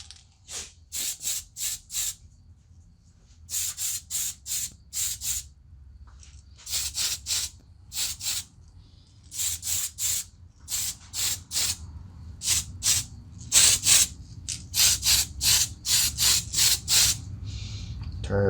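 Spray can applying a quick extra coat of black paint to an interior part, heard as repeated short hissing bursts in uneven clusters, close and fairly loud, with no talking.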